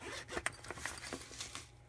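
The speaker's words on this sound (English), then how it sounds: "we got a nice simple little zipper carrying case" Zipper on a small soft carrying case for a Ruger LCP pistol, a quiet, close series of quick rasping zip strokes with uneven rhythm, heard alone.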